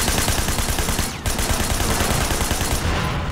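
Rapid automatic gunfire rattles continuously in the video game Sleeping Dogs during a car chase, loud and dense shots with a brief break, the car explosion not clearly distinct.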